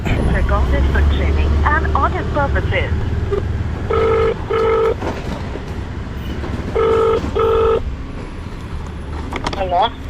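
Two pairs of electronic ringback tones sound from a phone, each a short double beep, over a steady background of traffic and bird chirps, as a food delivery rider calls a customer.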